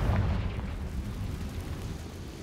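Confringo fire spell explosion in the video game Hogwarts Legacy, a loud, deep rumbling boom with a sharp onset that rolls on steadily without fading.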